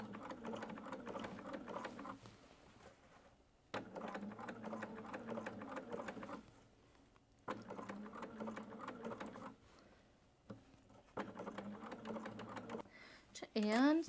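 A domestic sewing machine runs in several bursts of rapid, even stitching while sewing around a collar curve, each run a few seconds long with short pauses between, close and steady, followed by a brief rising whir at the end.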